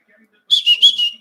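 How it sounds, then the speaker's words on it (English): A person whistles a short run of about four bright, closely spaced notes straight into a nearby microphone during a live football watchalong; the notes are loud, clear and alone. "Whistling at the camera or the microphones."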